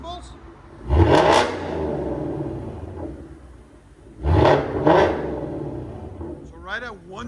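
A 2024 Ford Mustang GT fitted with a Borla cat-back exhaust revs loud and close in two strong bursts that rise and fall back to a rumbling idle, followed by a shorter blip at the end.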